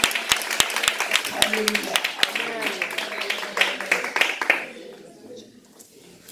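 A church congregation at a Sunday service claps in a steady rhythm, sharp hand claps repeating under a preacher's voice, then fading out toward the end.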